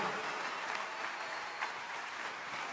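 A stand-up comedy audience applauds in a dense, steady wash of clapping that holds evenly for a few seconds, heard from within the crowd.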